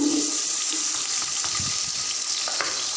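Onions dropped into hot oil for chicken pulao, giving a steady, watery sizzle and hiss from close by, with faint clinks over the bubbling.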